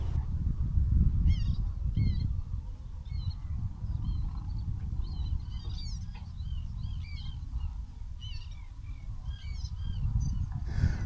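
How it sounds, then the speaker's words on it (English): Waterbirds call repeatedly from the open water of a broad at Giethoorn, Netherlands, with scattered honks and chirps over a steady low rumble, heard from a boat sitting at anchor. "All you can hear is the birds"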